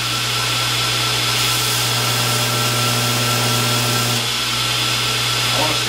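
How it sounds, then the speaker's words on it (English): An electric motor runs slowed down at a forge workshop, making a steady, fairly loud, humming whine that dips briefly near the end before carrying on. "I'm going to slow my motor down and I'm going to really clean that up."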